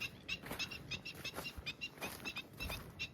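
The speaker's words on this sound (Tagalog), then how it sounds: "Ang ingay po ng mga ibon." Faint, busy chirping and twittering from several birds, repeating continuously at a distance, with soft low rumbles underneath.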